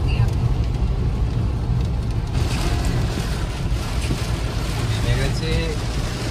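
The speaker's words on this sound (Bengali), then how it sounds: "প্রচন্ড মুষলধারে বৃষ্টি" Heavy torrential rain while driving a car on a highway, a continuous dense roar of rain and road noise inside the moving car, steady and fairly loud throughout.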